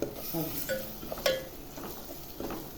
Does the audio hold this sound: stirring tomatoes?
yes